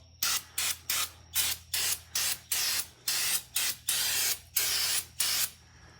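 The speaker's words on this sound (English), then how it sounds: "I'm gonna hit this with some brake clean just to get any residual oils off." An aerosol can of brake cleaner is sprayed onto an engine flywheel during a 5.0L engine build for a 1986 Ford F150, in about a dozen short, sharp hissing bursts with brief pauses between them, close and loud.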